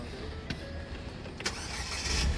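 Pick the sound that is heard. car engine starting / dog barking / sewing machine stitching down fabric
car engine starting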